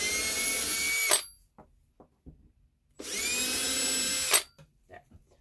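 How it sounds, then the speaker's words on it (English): A drill with a tiny bit bores into a small soft wood ornament in two short bursts of high whine, each about a second long, separated by quiet with faint handling clicks. "It's going to be really quick, so sorry about the drill"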